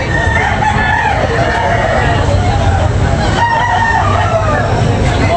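A gamecock for sale at a cockfighting rooster market crows loudly and nearby, with a long drawn-out call followed by another, over a busy background of other fowl and a murmuring crowd.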